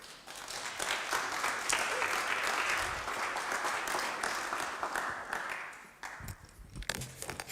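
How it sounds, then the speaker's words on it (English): Audience applause for a speaker taking the stage at a conference, a sustained wash of clapping from a crowd that rises, holds, and thins out toward the end into scattered claps. "Please give applause to her."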